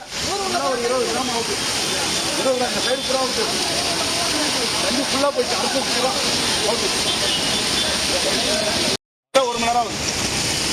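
Floodwater from a breached river rushing into a village: a loud, steady broadband roar of churning water throughout, with voices talking over it and a brief dropout near the end.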